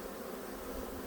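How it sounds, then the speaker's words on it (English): Honeybees swarming around an open hive during a late-August inspection of a crowded colony, a continuous dense buzz filling the air with no voices. "But just look at all the bees here."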